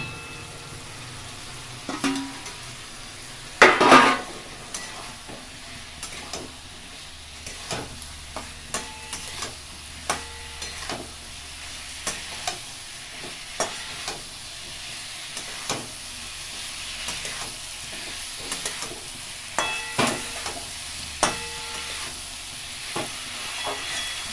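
Paneer drops into a pan for butter paneer with one loud splash of sizzle, followed by steady frying hiss and regular light scrapes and taps of a spatula stirring the pieces.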